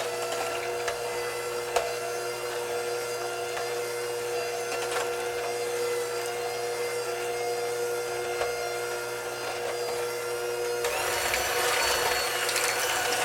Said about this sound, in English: I'm going to take my mixer and mix it up